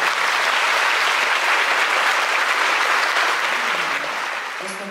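An audience at a charity foundation's gala applauds the foundation president with steady, dense clapping that holds loud and even for several seconds, then begins to fade slightly at the end.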